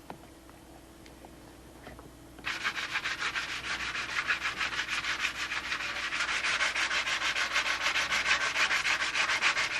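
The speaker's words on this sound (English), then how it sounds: "so I'm going to block sand this out by hand" Hand block sanding on tubing of a Spitfire model, a steady rapid back-and-forth scratchy rubbing that starts after a brief quiet pause and continues loud and close without talk.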